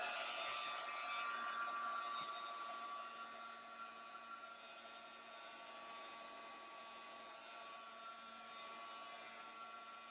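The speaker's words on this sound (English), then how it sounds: "And then we're going to give it a very quick heat set." An electric heat tool blows a steady, fairly loud whirring hiss with a faint tonal whine while heat-setting paint in an art journal, running continuously without a break and easing slightly in level after the first few seconds, with no talk.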